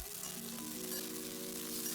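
Pork liver with red and green chili peppers stir-frying in a wok, a faint, even hiss of frying oil with a low steady hum beneath, continuous throughout.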